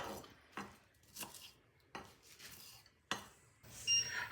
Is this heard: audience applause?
no